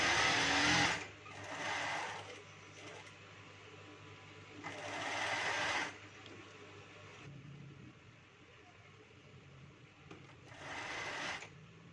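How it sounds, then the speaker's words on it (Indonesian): Sewing machine stitches lining onto the front of a blouse in three loud bursts of whirring, with quieter pauses in between and no talk. "Ini kita lanjut menjahitkan back bagian depan baju"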